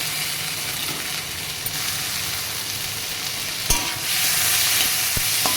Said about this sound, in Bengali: পেঁয়াজ রসুনটা ভেজে নিয়েছি, টমেটোটা দিয়ে দিচ্ছি